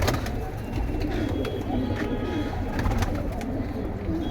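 Golden male pigeons in a pigeon collection coo repeatedly in low, throaty calls, close by and steady, with faint background noise.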